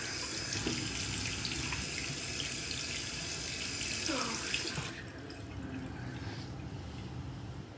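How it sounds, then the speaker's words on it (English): Tap water runs steadily into a bathroom sink while someone washes their face, with splashing that stops near the end and leaves a quieter room tone. "I'm just gonna wash my face right now."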